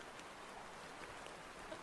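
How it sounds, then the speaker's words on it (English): Steady, soft rain falls continuously in the background as an even, quiet hiss with no voices or other sounds. "are the rain sounds too loud?"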